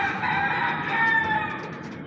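Golden Misri chickens kept alongside rabbits cluck while a rooster crows, a loud close barnyard call stretched over about two seconds with steady hens underneath and no talking.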